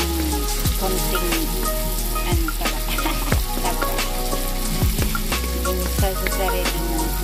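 Tiny dried shrimp sizzle and crackle in hot cooking oil, a steady dense frying hiss with scattered pops throughout, close and loud, no talking, while a Filipino ginisang ampalaya is being started.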